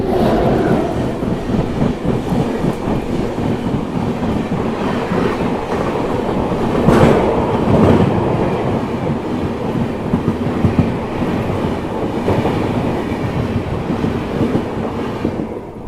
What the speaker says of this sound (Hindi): 12559 शिव गंगा एक्सप्रेस का क्रॉसिंग देखिए